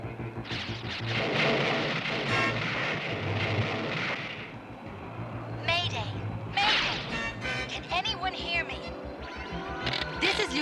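Cartoon cosmic storm effects from 1983's He-Man and the Masters of the Universe: rushing wind-like noise, crackling electrical zaps and thunderous crashes, with voices intermittently over the din.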